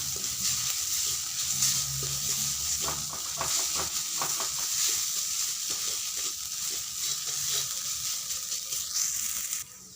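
Steady, close sizzling of paratha dough with ginger and garlic frying in a pan, a continuous crackle with faint scraping stirs running alone for about ten seconds before cutting off abruptly.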